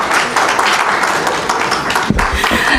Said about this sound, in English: Another round of applause for the PS MSMEs.